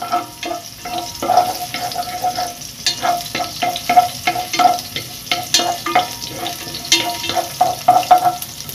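Garlic sizzling in hot oil in a pan, a steady crackling fry with repeated scraping stirs of a utensil close by.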